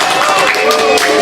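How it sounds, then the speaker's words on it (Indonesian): Applause from a group of students in a classroom, a dense, steady patter of many hands filling the short moment at close range, with speech-like murmur mixed in. "Tepuk tangan dulu."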